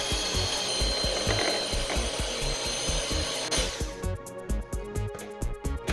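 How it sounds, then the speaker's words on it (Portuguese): An electric hand mixer beats three whole eggs, whirring steadily with a rapid rattling pulse, then turns lighter and choppier partway through. "E para isso eu vou usar uma batedeira."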